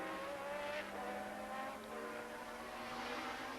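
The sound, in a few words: Formula 1 race car engine, 1982 British Grand Prix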